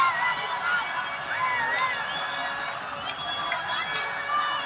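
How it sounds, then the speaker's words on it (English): Crowd at a Nepal Premier League cricket match between Karnali Yaks and Sudurpashchim cheering ecstatically, a broad distant roar with shrill whistles and shouts rising and falling throughout. "The crowd's going ecstatic"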